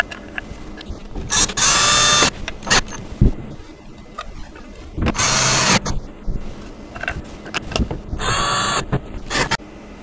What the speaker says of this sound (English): we're going to be taking that medium-sized bolt, and we're going to be bolting through at all 3 levels